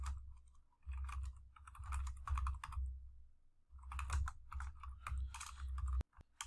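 Fingers typing out a sentence on a computer keyboard, with quick bursts of close, crisp key clicks separated by brief pauses.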